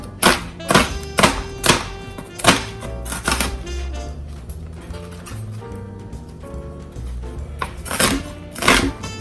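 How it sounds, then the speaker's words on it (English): A knife lightly chops a vegetable on a cutting board, making a run of close, crisp thunks in an uneven rhythm with brief pauses between bursts, and nobody speaking. "Lightly chop it."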